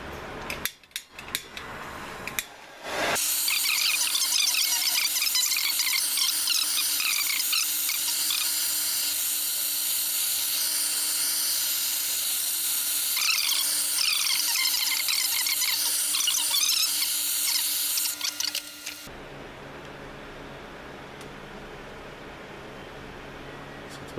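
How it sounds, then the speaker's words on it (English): A gas torch heats a cast metal part ahead of welding, giving a loud, steady hiss that starts abruptly, holds for about sixteen seconds and then cuts off, leaving a quieter background. "So I'm going to heat it up a little bit here with the gas torch."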